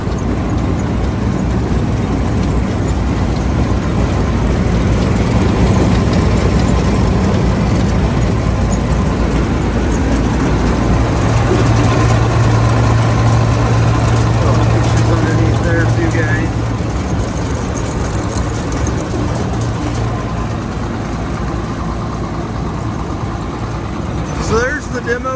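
A John Deere 7720 turbo combine engine runs loud and steady at close range, a continuous heavy diesel drone with a slight shift in pitch partway through, and people talk over it.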